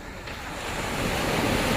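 Small, gentle sea waves wash onto a summer beach at Rushan Silver Beach, a steady broadband surf wash that builds slightly and holds, with some wind noise on the microphone and no talk.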